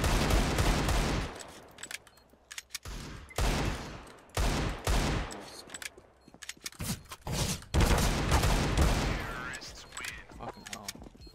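Desert Eagle pistol shots ring out in a CS:GO match, loud and close, in rapid bursts of heavy gunfire with short gaps between them, while players talk over the action.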